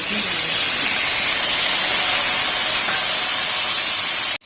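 Chopped tomatoes go into a pan of frying stuffed masala bitter gourds (karela), producing a loud, steady, close sizzle and hiss that runs unbroken until it cuts off abruptly at the end.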